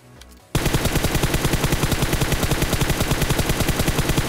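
Rapid automatic gunfire in a solo-vs-squads battle royale video game, a loud, close burst of evenly spaced shots that starts abruptly after a quiet moment and continues without pause.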